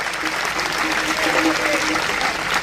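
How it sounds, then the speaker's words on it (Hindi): Steady, loud audience applause fills a school foundation ceremony for a girls' college in Mukundgarh, sustained without pause and mixed with some crowd voices. "तालियां जोर, जितनी जोर से बजाओगे उतना पैसा बढ़ता जाएगा।"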